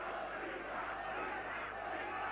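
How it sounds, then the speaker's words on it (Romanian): Football stadium crowd during a Politehnica Timișoara versus Atlético Madrid match, a broad steady roar of applause from the stands with no distinct pauses, far-off and diffuse. "Aplauze și pentru cel care a șutat, dar și pentru portarul Jipa."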